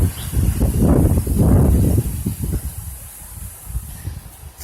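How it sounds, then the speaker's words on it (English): Strong wind gusts on the backside of a storm with northwest winds, roaring loudly against the microphone for the first two seconds, then easing into a lower, fluttering rush, with no voices. "It's very windy today."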